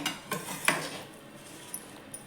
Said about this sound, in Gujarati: આપણે બધું સારી રીતે મિક્સ કરી દઈએ.